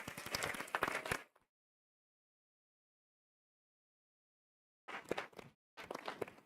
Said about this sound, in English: We should give them all a big round of applause.